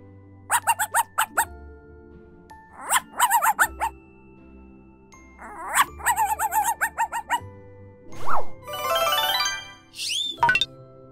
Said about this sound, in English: Baby dog is called a puppy.